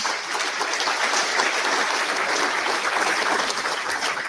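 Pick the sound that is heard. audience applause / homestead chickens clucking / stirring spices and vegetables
audience applause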